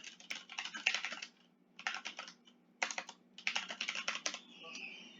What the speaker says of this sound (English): you can type a message